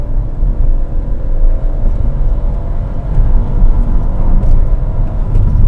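A Fiat Pulse or VW Nivus engine is revved under full acceleration, a loud, close, steady low drone whose pitch holds fairly even throughout, with no talking.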